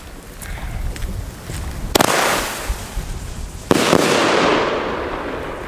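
Two sharp firework mortar shots from Klasek Triple Dum Bum 20mm bomb tubes crack out a couple of seconds apart, each followed by a hissing, crackling tail over a windy outdoor background.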